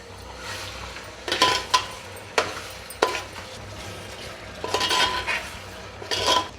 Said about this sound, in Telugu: ఇప్పుడు ఈ పెరుగు వేస్తున్నాను.